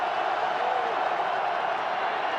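Crowd noise fills a stadium at a Giants at Redskins NFL football game in 2005. It is a dense, steady roar with no clear peaks, and there is no clear commentary over it.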